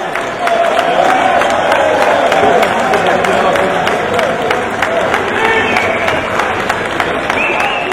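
A crowd applauds steadily at a medal ceremony marking a shopkeepers' society's 45th anniversary, dense sustained clapping and cheering throughout.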